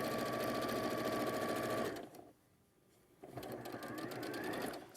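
A sewing machine runs steadily while stitching quilt fabric, pauses for about a second, then starts up again with a close, continuous whirring hum.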